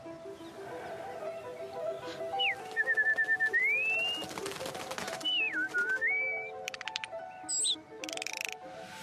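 Rameau's harpsichord piece Le Rappel des Oiseaux, heard as bird-like whistled and chirping melodic lines with sliding tones and quick repeated notes, fairly quiet, with faint background sounds.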